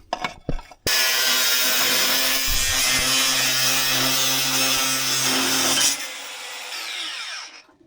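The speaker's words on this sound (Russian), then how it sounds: "Но я гайку распилил, сейчас мы ее отогнем." Power tool cutting through a rusted metal nut on an old KrAZ-255 truck, a loud, continuous high-pitched grinding whine lasting about five seconds before cutting off and winding down.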